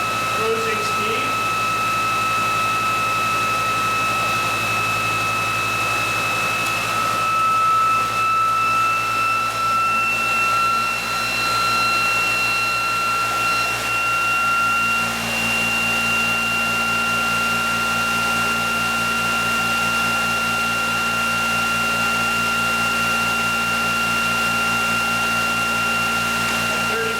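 A ReGen-X electric motor runs steadily at cruising speed, about 3,457 RPM, giving a constant whine with several sustained high tones over a low hum, loud and unbroken throughout with no talk.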